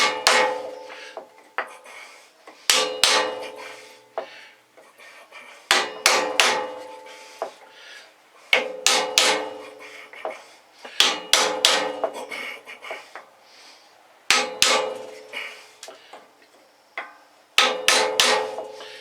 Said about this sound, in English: Tap on the outside race of the bearing, not on the center part, and try to drive it in square.